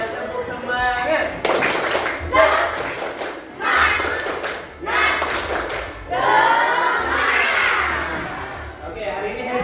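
Primary schoolchildren in an Indonesian classroom (SDN 1 Rangkasbitung Barat) perform a rhythmic spirit clap in several bursts, patterned group clapping mixed with children's chanting voices and a few thumps.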